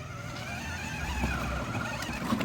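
A car being driven gives a steady, close engine rumble with a faint rising whine and no voices.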